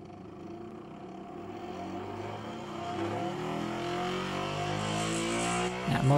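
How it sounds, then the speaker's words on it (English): A 36-volt electric motor spins a go-kart drive shaft with its chain drive, a steady whirring hum that climbs slightly in pitch and loudness over several seconds, close up and alone. "That motor sounds great, and that is running super, super well."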